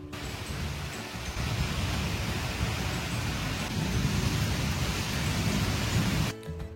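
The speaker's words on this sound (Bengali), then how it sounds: "বাইরে ভীষণ জোরে জোরে বাতাসের আওয়াজ হচ্ছে।" A strong storm wind blows outside, a loud, steady broadband roar that persists without voices and cuts off abruptly near the end.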